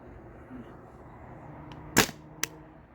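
A Tippmann TPX paintball pistol fires one sharp shot, then a fainter second crack half a second later, both short and fairly close in a quiet setting.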